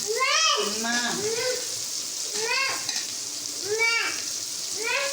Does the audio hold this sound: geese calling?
no